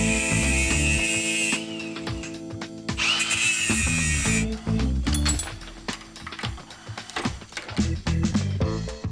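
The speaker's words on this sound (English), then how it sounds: "I'm gonna cut this old hydraulic line off by just cutting this crimp off" Power tool cutting the crimp off an old hydraulic line on a Kenworth truck: loud whining bursts that start and stop, with a high-pitched grinding shriek while biting into the metal, and clinks between passes.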